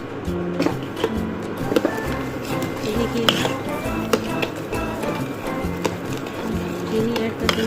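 A spoon scrapes and clinks in a pot as sugar is stirred into thickening mango phirni, a busy run of close metallic stirring and rattling that continues steadily, with someone speaking over it.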